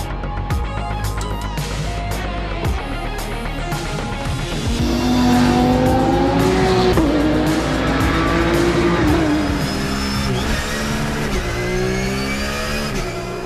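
Race cars on the warm-up lap at Circuit Paul Ricard during a ROSCAR event, engines droning loudly and continuously close by, with revving swells and rising, overlapping engine notes as the cars pass.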